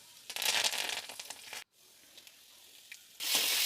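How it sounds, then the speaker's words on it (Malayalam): Mustard seeds and onions sizzling in hot oil for a sambar tempering, a loud crackling hiss that cuts off abruptly, a quieter stretch, then a bright burst of sizzle returning at the end. "എന്നിട്ട് പിന്നെ എണ്ണ ഒഴിച്ച് കടുക് അങ്ങ് പൊട്ടിക്കാൻ പോവുകയാണ്."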